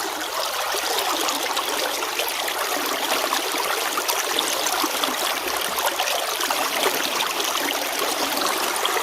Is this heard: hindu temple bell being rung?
no